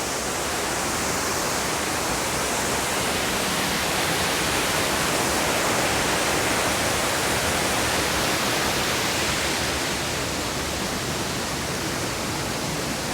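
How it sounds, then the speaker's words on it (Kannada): Abbi Falls pours in a steady, dense roar of rushing water, loud and unbroken throughout, with no voices. "ಎಷ್ಟು ಫೋರ್ಸಾಗಿ ಬರ್ತಾ ಇದೆ ನೀರು ನೋಡಿ."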